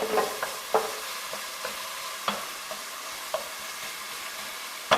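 Onions sizzle in hot oil while being stirred for a spiny lobster tail curry, a steady frying hiss broken by sharp scrapes of the spoon at irregular intervals, close up with no talk.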